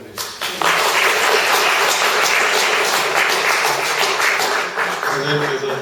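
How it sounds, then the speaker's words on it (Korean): An audience at a poet's talk concert breaks into applause, a dense, loud, sustained wash of clapping that rises quickly and stays steady to the end. "박수 한번 보내주시죠."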